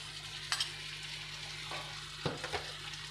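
Cucumber curry masala with coriander powder soaked in milk being stirred and fried down in a pan, a soft continuous sizzle with a few sharp spoon scrapes, quiet and without talk.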